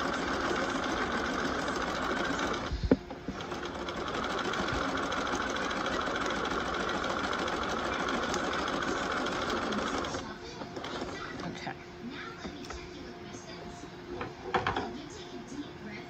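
Sewing machine with a special presser foot hemming woven fabric: a steady mid-pitched motor whir runs for about ten seconds, then stops, leaving quieter handling noises and a faint voice.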